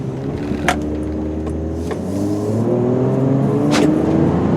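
The inline-six engine of a 2002 GMC Envoy SLT pulls steadily as the SUV accelerates on the road, its note rising and stepping through smooth gear changes, with a faint whir and road noise underneath.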